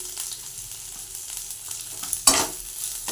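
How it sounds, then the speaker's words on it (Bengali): Spice paste with garlic and salt being sautéed and stirred in a pan: a soft, low sizzle with a few faint scrapes, then one sharper scraping stir near the end, close and without talk. "মশলা দিয়ে এটা কষে নেব"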